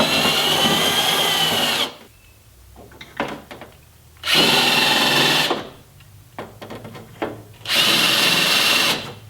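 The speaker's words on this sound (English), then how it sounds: "I didn't drill those all the way through. I didn't want to mess up the plastic" A power drill bores into a plastic Napier fender flare in three loud, sustained bursts of about two seconds each. Quiet clicks and handling noises fill the gaps between bursts.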